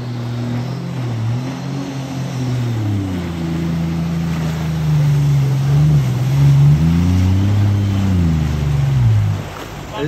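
A supercharged mini jet boat's loud engine whines upward, its pitch rising and dipping as it revs hard and surges forward, with no talking over it.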